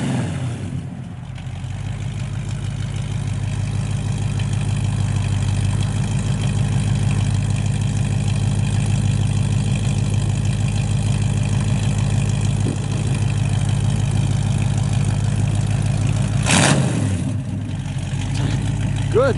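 A 1964 Ford Falcon Sprint V8 with an Edelbrock cam and intake idles steadily through a 2.5-inch dual Magnum Flow muffled exhaust, a deep continuous rumble held close and loud, with a brief blip near the end.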